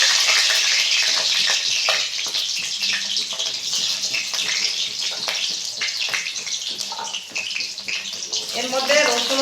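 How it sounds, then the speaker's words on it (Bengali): Halved onions dropped into hot oil for a chicken curry, crackling and sizzling loudly and steadily with bursts of spattering, while someone talks over the frying. "তেল হয়ে গেছে, আমি তেলের মধ্যে এই পেঁয়াজগুলো দিয়ে দেবো।"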